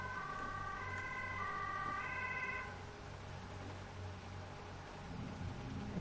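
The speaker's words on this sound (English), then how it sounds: "Sound like an ambulance." A distant two-tone ambulance siren in the game Fallout 4 wails for a few seconds over a steady low traffic rumble, then fades out while the rumble carries on.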